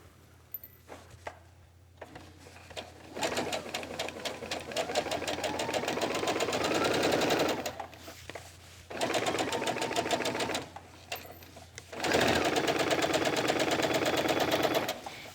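A sewing machine stitches the hem of a child's vest in three steady runs, with short pauses in between. The motor hum is close and even, and no one speaks.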